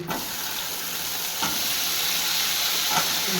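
Potatoes fry in hot oil, giving a steady, fairly loud sizzle with a couple of brief utensil scrapes, and no voices.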